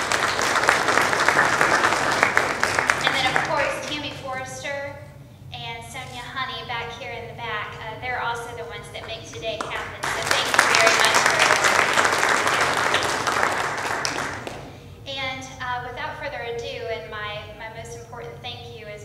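An audience at a Red Cross annual meeting claps in two loud bursts of applause, each followed by a speaker talking at a podium in a hall.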